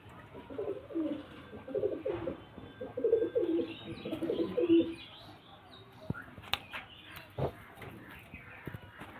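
A pair of pigeons coo softly in low, rolling phrases through the first half, fading under faint chirps and brief knocks, with a voice speaking lightly in the background.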